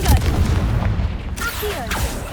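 A Confringo blast spell explosion in Hogwarts Legacy: a loud booming burst up front with a rumbling tail, followed by softer magical whooshes and pops, with game sound continuing underneath.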